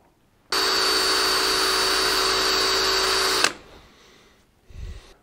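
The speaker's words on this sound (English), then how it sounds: "I think it's gonna be easier just to drill this thing all the way through." A power drill bores through a steering pin on a Caterpillar D4 bulldozer, a steady loud whine running for about three seconds, then stopping, followed by faint clatter.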